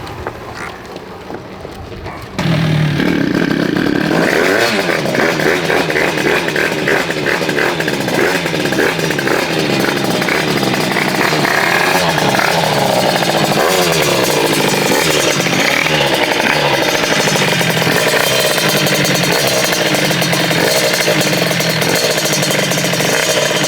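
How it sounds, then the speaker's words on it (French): A 100cc motorcycle with no kickstarter, started in second gear, catches after a quieter opening and then runs loud and close, its engine revving and settling unevenly as it warms up. "on va démarrer la moto, pour rappel il n'y a pas de kick donc ça va démarrer en deuxième"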